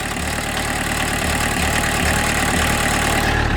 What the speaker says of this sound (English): I don't know if you can hear the kind of little stutter right now,